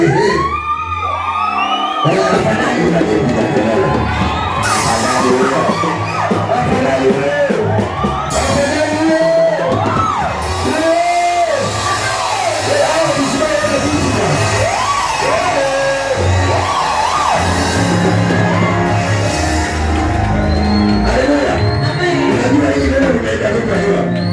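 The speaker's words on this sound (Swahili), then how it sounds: "Pigeni kelele za furaha." A church congregation at a worship service shouting for joy, a loud, dense mass of whoops, yells and cheering voices rising and falling for over twenty seconds without pause.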